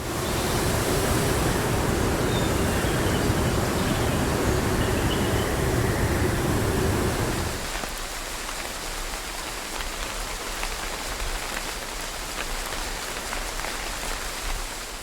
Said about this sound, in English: It tracks the game's time of day, season, wind and rain strength to ensure that the trees sound like they're reacting with their environment.